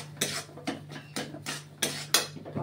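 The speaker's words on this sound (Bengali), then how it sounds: "এবার নাড়া লাগবে, এইভাবে নাড়তে হবে।" A metal spatula stirs and scrapes potato masala for Kolkata-style egg devil in a pan, about six distinct clanking strokes in an uneven rhythm, close and fairly quiet.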